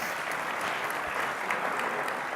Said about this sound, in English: So give yourselves a round of applause for making it to the event tonight.